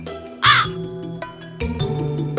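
A crow gives one loud, harsh caw near the start, followed by quieter background tones and soft knocks.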